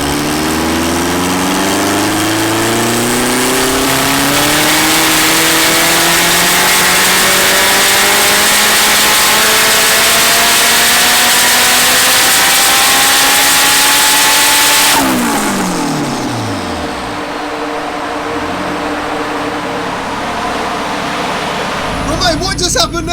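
A turbocharged car engine on a dyno run at low boost of 1.7 bar climbs hard and loud through the revs, then abruptly lets off and winds down with turbo whoosh. Voices sound faintly beneath.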